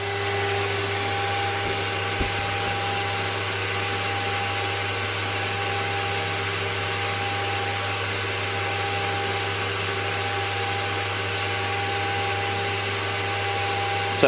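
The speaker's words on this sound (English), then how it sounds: "So yeah, the VFD makes quite a lot of noise." A VFD driving a 2.2 kW water-cooled high-frequency CNC spindle on its first run gives a steady, loud, continuous whine and hum with no change in pitch throughout, with no talk.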